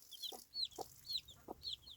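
Baby chicks on a farm peep in short, bright chirps, four or five calls spaced about half a second apart, close and fairly soft with no talking.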